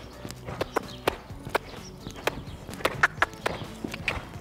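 A Grand Prix dressage horse canters in an arena, its hoofbeats landing in a steady, clear rhythm close by, with small creaks and jingles of tack between the beats.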